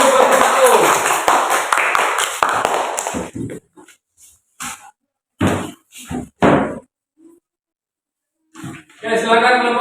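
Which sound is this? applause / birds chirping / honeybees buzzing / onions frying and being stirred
applause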